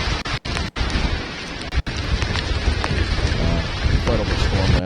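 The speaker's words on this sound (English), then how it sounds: "You can see how heavy the rain is coming down." Heavy rain pours steadily during a Long Island storm, a dense roar close to the microphone with buffeting wind and a low rumble of thunder building toward the end.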